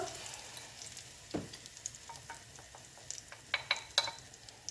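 Crêpe-style batter poured into a hot frying pan sizzles softly and steadily, with scattered faint crackles and a few sharper pops and ticks rising toward the end; no one talks.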